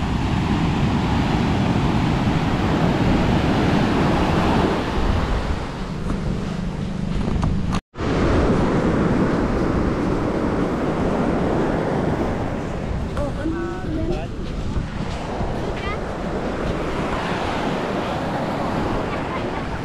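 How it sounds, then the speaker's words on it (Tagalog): Heavy sea and strong wind roar past a small outrigger boat during a rough crossing in the Philippines, a dense continuous rush of waves and wind buffeting the microphone, with a brief dropout and voices faintly beneath. "Laki ng alon"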